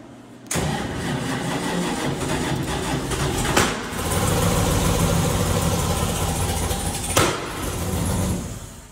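A sand rail's engine cranks and catches after a short silence, then idles roughly and loudly with a misfire from swapped coil wires, two brief blips of revving standing out along the way.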